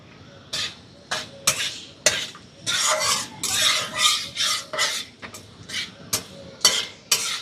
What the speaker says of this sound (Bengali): একটু হালকা করে নেড়ে চেড়ে সবকিছু একটু ভালো করে ভেজে নেব।